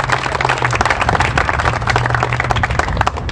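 Loud, close applause from a rally audience at an outdoor liberty festival, with dense rapid hand claps continuing without a break.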